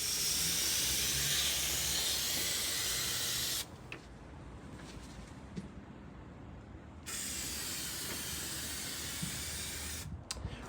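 Contact adhesive hisses steadily from an aerosol can as it is sprayed beneath the bonnet of a Mercedes R107, a loud continuous spray that stops briefly midway before resuming.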